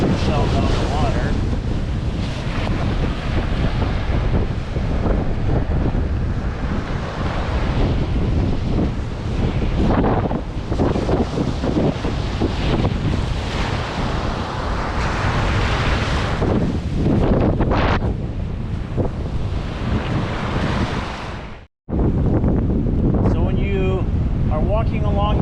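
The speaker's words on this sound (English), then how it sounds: "as the waves go in and out, they wash away the sand and expose shells" Ocean waves wash in and out on Navarre Beach, Florida, at night, a loud steady roar of surf with heavy wind buffeting the microphone throughout and only one brief dropout.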